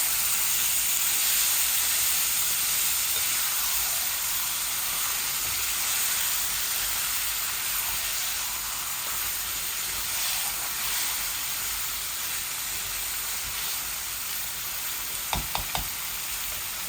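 Egg curry masala with tomato fries in a pan as bhuna, a loud, continuous sizzle and hiss with occasional stirring, ending with a few quick knocks of a spoon against the pan.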